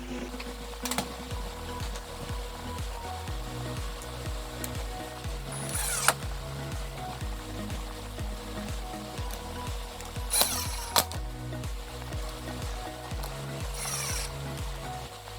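Screws being driven into a chess board with a power driver, repeated whirring runs with ratcheting clicks and a few sharp knocks, close and fairly quiet, with no talk.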